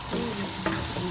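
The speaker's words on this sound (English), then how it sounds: "Now we're gonna add the potatoes." Potatoes sizzle as they go into a hot frying pan for aloo gobhi, with a short burst of frying and stirring close up and no talking.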